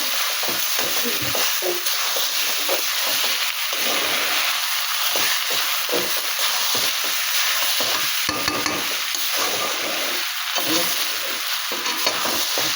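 Sago fried and stirred in a wok, with a continuous sizzle and a spoon scraping repeatedly across the pan's surface, close and steady throughout.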